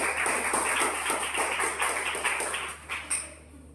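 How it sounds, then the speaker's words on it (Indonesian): Participants in a Christian religious education teacher training session clap before a group presentation, a dense run of close, steady claps that fades out near the end. "Mari, sebelumnya kita berikan tepuk tangan yang paling meriah."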